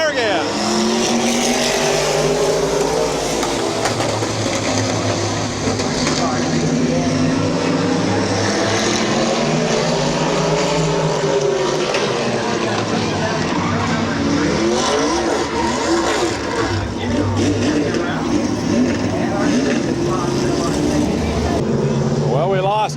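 Race cars, four of them running an eight-lap heat at Midvale Speedway in 2004, roar around the track with engines rising and falling as they pass, loud and continuous, while an announcer's voice carries over the racket.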